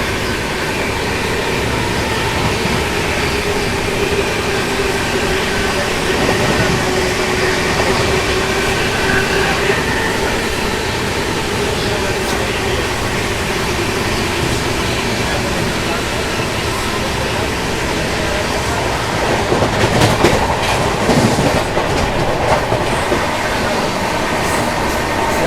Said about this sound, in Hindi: ट्रेन अपनी जो है गढ़ Mukteshwar bridge railway station skip कर रही है